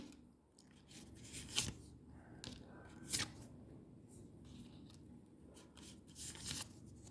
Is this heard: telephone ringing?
no